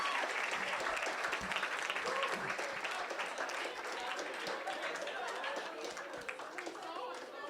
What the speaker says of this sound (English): let's give a big round of applause for this special dance